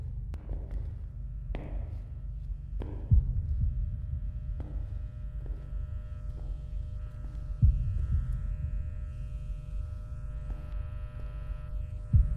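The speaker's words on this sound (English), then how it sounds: "That was a heartbeat." A low, throbbing heartbeat effect pulses steadily under a faint hum in the body cam horror game Deppart, with a few sharper thuds standing out.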